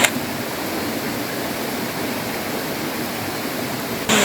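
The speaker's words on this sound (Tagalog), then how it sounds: "So itong waterfalls lahat ay napunta sa right side" Natotoo Falls, a multi-tiered waterfall in Caramoran, Catanduanes, roars in a dense, continuous wash of rushing water, loud and close, with no voices heard.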